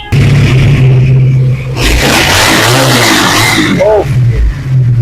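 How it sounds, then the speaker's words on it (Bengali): A Regal Daytona V4 EFI motorcycle engine revs loud and close, idling and then surging into a roaring burst before settling back to a throbbing idle. "আশিক তো বাইকের সাউন্ডটা শুনিয়ে দিবা"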